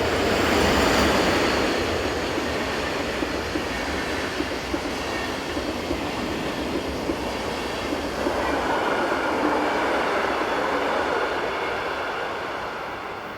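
A Swiss passenger train forming the Zurich to Chiasso service pulls into a station on the Gotthard north ramp, a loud, close, steady rumble of wheels and carriages with faint clatter. It holds evenly and eases off slightly at the end, with no voices.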